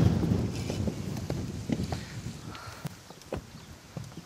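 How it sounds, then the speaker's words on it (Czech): Strong wind gusts buffet the microphone while fishing on a lake, blowing the line sideways, a rough continuous roar with scattered clicks and light handling knocks, no talk. "A stejně ten vítr je tak silný, že mi to svoukává do strany tu šňůru."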